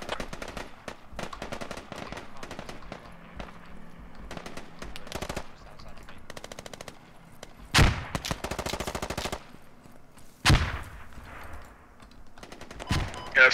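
Automatic gunfire in the tactical shooter Squad comes in rapid bursts and scattered single shots, some close and sharp, others farther off, with a few louder cracks standing out.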